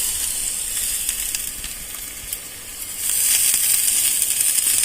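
Pepper powder and curry leaves sauté in a pan, a steady close sizzle and hiss that swells louder partway through, with no talking.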